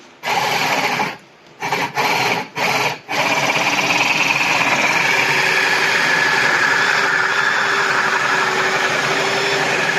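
A wood drill bit bores into a soft aerated concrete block, a loud continuous grinding whir after a few short stop-start bursts at the beginning.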